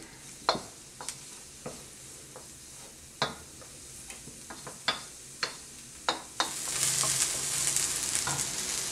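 Onions browning in a hot pan, a steady sizzle broken by a series of sharp spatula taps and scrapes, the frying hiss swelling louder toward the end.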